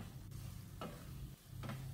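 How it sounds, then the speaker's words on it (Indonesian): Sambal goreng of potato and tofu stirred in a pan as the sauce thickens, a few separate scraping strokes of the spoon over a quiet sizzle, no one talking. "Aduk sampai semuanya tercampur rata dan kuahnya mulai mengental."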